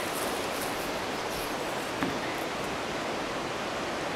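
Steady broadband rush of river water where a creek joins it on a gold claim, a constant near wash with no talk.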